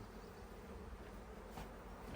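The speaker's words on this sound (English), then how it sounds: "Now I like these Saskatraz bees." Saskatraz honey bees at an open hive drone in a dense, steady buzz. The swarm sound stays close and unbroken throughout.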